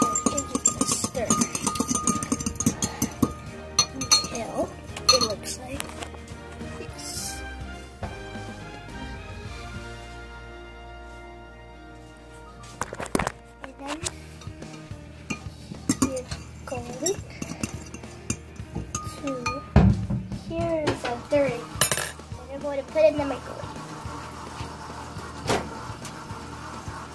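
A single egg stirred in a dish, its yolk broken, giving irregular clinks and scrapes of utensil against dish, fairly close, with a few louder knocks and short bursts of background voice.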